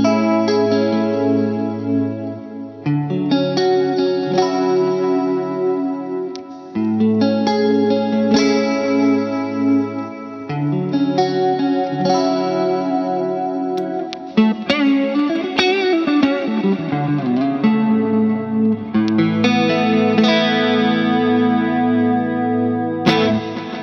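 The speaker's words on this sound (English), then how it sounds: "Even more crazy, I can add the reverb back in." Electric guitar runs through a NUX pedalboard with reverb switched on, heavily effected chords and notes with chorus-like shimmer and distortion ringing out loud and steady for over twenty seconds, with no talking.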